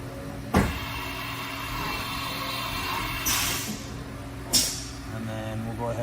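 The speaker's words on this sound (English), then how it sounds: "Next, we'll go ahead and do a tool change." Tool change on a 2022 Haas VF-2 vertical machining center: a steady mechanical whir with three short clunks and hissing bursts from the changer, close by with no talk.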